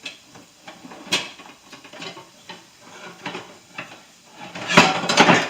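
Metal cookware clanking and knocking as a frying pan is pulled from a cupboard, with scattered clatters and a louder rattle near the end.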